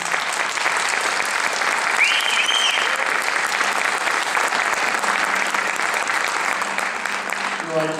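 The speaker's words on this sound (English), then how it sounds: "So give them a big round of applause" Audience at a high school jazz concert gives the Wauwatosa West Jazz Ensemble I sustained applause, a dense even wash of clapping from a large crowd that holds steady throughout, with faint voices underneath.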